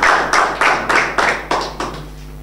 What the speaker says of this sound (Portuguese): Aplausos para o Penaile, pessoal.